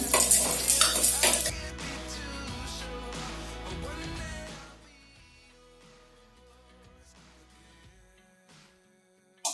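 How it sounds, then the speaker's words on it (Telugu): Dry red chillies and spices fry in a hot pan for a bitter gourd fry, starting with a loud, bright sizzle and scraping stirs that settle into a quieter crackle and end with a final clink. "ఎండుమిర్చి ఇలా వేసుకొని వేసుకున్నాక ఇవి కొంచెం వేగాక తర్వాత వీటన్నిటిని వేసి వేపుకోవాలి"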